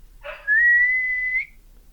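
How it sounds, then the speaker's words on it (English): A young boy, Peter, blows a single clear whistle after a breathy start: one steady, high, sustained note lasting just over a second, close and alone in a quiet space. "Suddenly, out came a real whistle."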